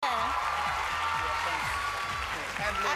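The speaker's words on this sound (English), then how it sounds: "give him a round of applause" A large studio crowd at the X Factor live final applauds steadily as a dense, continuous wash of clapping and cheering, with voices and music-like tones mixed underneath throughout.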